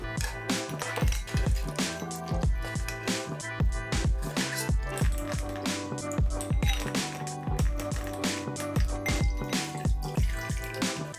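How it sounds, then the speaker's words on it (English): Homemade butter being rinsed and worked in ice water, a continuous stream of wet squishing, dripping and sloshing, close and fairly steady throughout, with no talk. "I prepared some ice water and I'm gonna rinse my butter"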